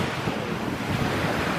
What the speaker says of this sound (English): Yes, we're at the beach.